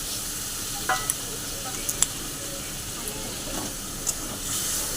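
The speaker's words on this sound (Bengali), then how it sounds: "এখন হলুদের গুঁড়ো দিয়েছি, নুন দিয়েছি, একবারে নুন দিয়ে একবারে কষিয়ে নিচ্ছি" A spice mixture with turmeric and salt is stir-fried in a pan, giving a soft, steady sizzle with a few faint clinks of a spatula, and a voice murmurs quietly beneath it.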